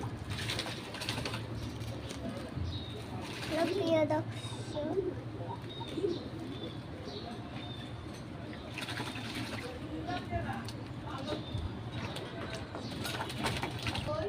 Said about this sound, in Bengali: দেখেন আমাদের কবুতর কিভাবে ঝাড়া দিয়া কবুতর একসাথে গোসল করছিল